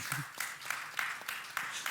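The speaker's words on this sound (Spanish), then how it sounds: "por favor, un fortísimo aplauso para Diana" Applause at a forum on feminism in comics, a faint, steady patter of clapping from a modest audience, distant and without voices.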